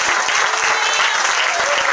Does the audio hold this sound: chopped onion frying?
no